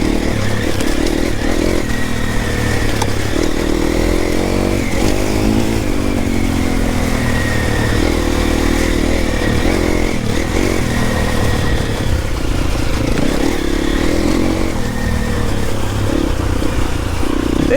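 A 4-stroke enduro motorcycle rides along off-road trails, its engine droning and revving continuously up close, with clattering and scraping from the terrain mixed in.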